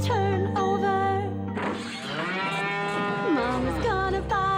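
A bull moos as a sound effect within a children's nursery rhyme song, long drawn-out lowing calls heard clearly over a musical backing.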